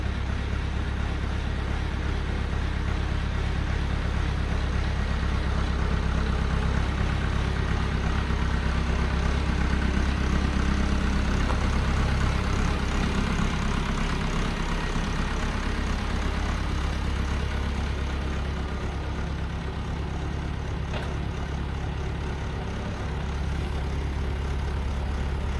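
A farm tractor engine idles steadily with a deep, continuous low rumble at close range while pallets are moved, with no talk over it.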